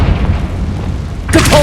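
Confringo blasting spell explosion in the Hogwarts Legacy video game: a low rumbling boom swells under steady noise, then a sharp, bright crackling burst erupts near the end, loud and close.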